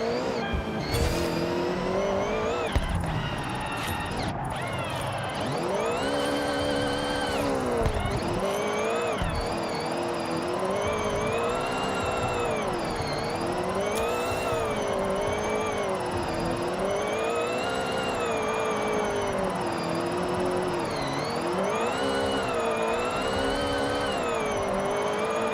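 A race car laps in Forza, its engine note climbing and dropping continuously through repeated gear shifts and revs, with bursts of tire noise early on, loud and close throughout.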